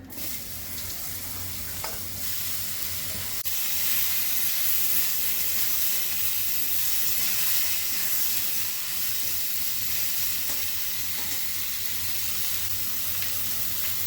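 Sliced ridge gourd dropped into hot oil tempered with black cumin, giving a loud, steady sizzling hiss that rises after a few seconds and holds continuously.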